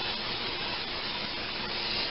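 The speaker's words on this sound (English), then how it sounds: "olive oil nonstick spray." PAM olive oil nonstick cooking spray hisses in one steady, continuous burst for about two seconds, close and fairly quiet, during kitchen cooking of marinated chicken.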